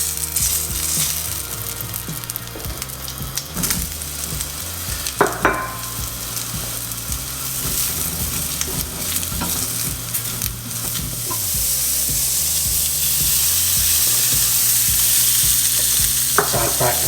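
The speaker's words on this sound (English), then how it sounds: "let's set them aside and get those mushrooms on." Mushrooms frying in a pan for a budget beef short rib dish, a loud continuous sizzle with occasional stirring knocks, growing slightly fuller toward the end, no speech.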